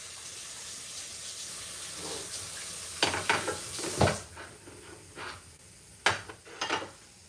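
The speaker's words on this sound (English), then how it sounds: "So I'm going to rinse this off and then cut it up." Fresh cilantro rinsed under a running kitchen tap while prepping for mahi tacos: a steady hiss of water broken by splashy bursts and handling clatter as the sprigs are moved under the stream.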